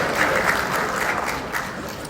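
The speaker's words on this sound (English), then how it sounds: "Yes, a round of applause, of course." Audience applause at a construction technology presentation in Malaysia, a dense steady wash of many hands clapping close by, filling the whole stretch without voices.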